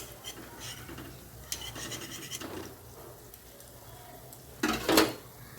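A spatula turns banana fritters in a frying pan of hot oil: a few separate metallic scrapes and clinks over a soft background sizzle, the loudest scrape coming near the end.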